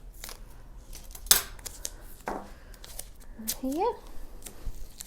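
Scissors cutting strips of masking tape for a children's craft, a few sharp snips and a crinkly tape rip near the mic, with a brief spoken word and soft handling noise around them.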